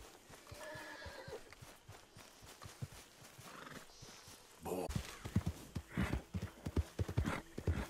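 A horse in Red Dead Redemption 2 whinnies, then clip-clops with heavy rhythmic hoofbeats that grow louder and closer, snorting between steps.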